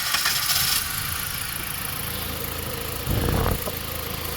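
A car engine with a suspected bad fuel pump cranks and catches, then settles into a steady mid-pitched idle with a faint rattle, ending with a brief louder burst of cranking. The sound is close and continuous.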